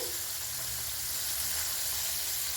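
KFC-style chicken popcorn fries in hot oil with a steady, dense sizzle that holds at the same level throughout, close and loud, with no talking.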